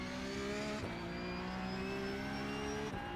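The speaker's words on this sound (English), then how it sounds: "you hear me pull off the gas right here to coast through that section" A Porsche 911 Cup (992.2) race car engine on the St. Petersburg street circuit is heard from the cockpit as the throttle lifts. The steady, droning engine note eases off, coasting with small shifts in pitch, faint and continuous.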